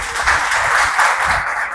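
Audience applause breaking out after a talk, a steady, dense wash of clapping that holds at an even level for a couple of seconds, fairly close and loud.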